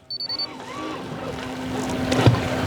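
A new Quest fishing boat running quietly through small one-foot chop, with a low steady motor hum and water wash that builds gradually. A few short beeps sound at the start.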